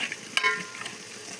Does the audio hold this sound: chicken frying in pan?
yes